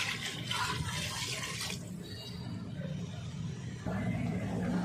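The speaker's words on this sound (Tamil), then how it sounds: "இப்போ வந்து நம்ம தண்ணி ஊற்ற போகிறோம்" Water poured into rice for a large biryani batch, about one and a half measures of water per measure of rice. A steady, close rushing pour runs for almost two seconds, then continues more softly.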